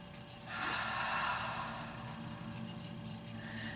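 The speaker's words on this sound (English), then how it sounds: "If you have the capacity, take a deep breath here" A single deep inhalation during a seated yoga twist swells in about half a second in, holds broad and breathy, then eases into a softer, longer exhale, close and quiet with no talking.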